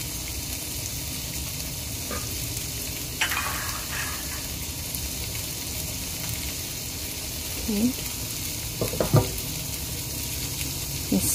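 Cheese frying in about half a bowl of oil in a pan, a steady soft sizzle running throughout with a few brief louder crackles and spatters near the end; a voice talks intermittently over it.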